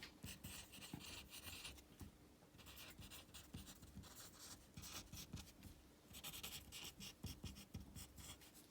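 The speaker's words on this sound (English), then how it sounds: "I know it's a lot of writing." Pencil or pen writing by hand on paper during a math lesson, quiet close scratching strokes in quick bursts with short pauses between words, no talking.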